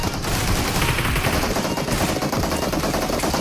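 Dense automatic gunfire in the PUBG Mobile game, loud and continuous bursts of rapid shots overlapping with no pauses, close and harsh throughout.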